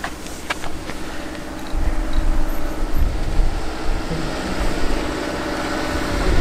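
A train rumbles past nearby in Japan, a steady loud roar with low clattering that grows heavier partway through and continues to the end.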